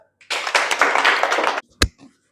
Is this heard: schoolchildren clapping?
yes